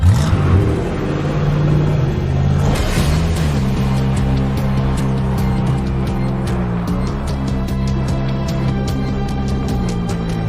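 A car engine driving through a snowy area, a loud, close steady hum and whir with shifting engine tones, revving slightly under faint clicking noises.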